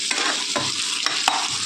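Sliced big onions and about ten red chillies sauté in a pan for Chettinad chicken gravy, a steady close sizzle broken by a few sharp scrapes of a spoon stirring, with no one talking.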